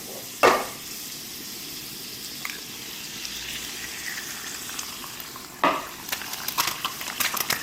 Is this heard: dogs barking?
no